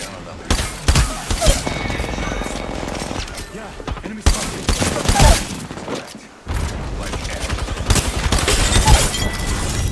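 Repeated bursts of Mozam gunfire from a first-person shooter video game, loud rapid volleys in three clusters with short gaps between them, with game mechanism clatter.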